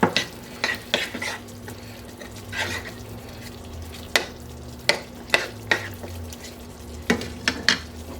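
A spoon stirs rice with strained tomatoes in a pan over heat: scattered scrapes and taps against the pan above a low, steady background, no voices.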